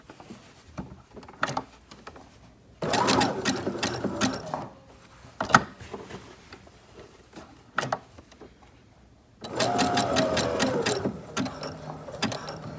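A home sewing machine stitches around the edge of an appliqué in two short runs of steady, fast mechanical whirring. Quiet handling clicks and pauses come between the runs.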